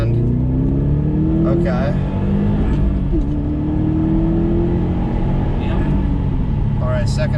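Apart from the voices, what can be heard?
car engine revving in second gear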